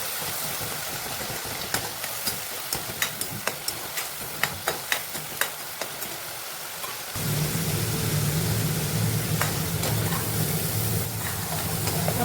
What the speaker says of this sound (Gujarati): તેલ છૂટું પડે ને ત્યાં સુધી આપણે હલાવશું।